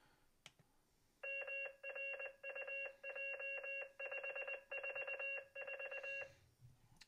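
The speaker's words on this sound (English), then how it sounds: "So we're going to let the board do a beacon." A repeater controller board for GMRS radios sends a beacon: a clear electronic tone sequence of repeated beeping bursts lasting about five seconds, fairly loud against quiet room noise.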